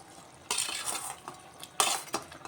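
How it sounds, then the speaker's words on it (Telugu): Cut boiled egg pieces dropped into a tamarind egg curry in a pan: two loud bursts of sizzling and utensil clatter, with quieter stirring between them. "ఇప్పుడు కట్ చేసి పెట్టుకున్న ఎగ్ ముక్కలు వేసుకుంటున్నానండి"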